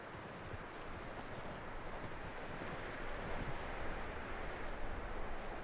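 Horse hooves clip-clop steadily over a broad, windy hiss in Red Dead Redemption 2, the footfalls fairly faint and evenly paced.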